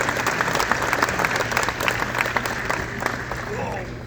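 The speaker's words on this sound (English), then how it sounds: "one final round of applause for Bob Jackson" Sustained applause from a crowd at a Baseball Hall of Fame induction evening, dense steady clapping that continues evenly through the whole stretch without a break.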